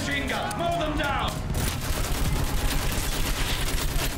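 Gunfire in the World War I shooter Battlefield 1, with a zeppelin overhead: loud sustained battle shooting that builds and continues throughout, with some game noise early on.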